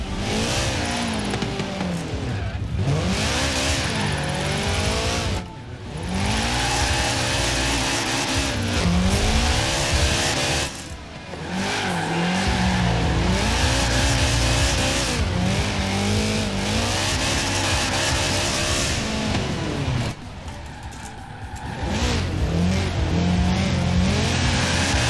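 A Subaru BRZ drifting in Forza Horizon 4 holds a loud, sustained engine roar as revs rise and fall through gear changes, with tire squeal and brief dips between slides, and no one talking.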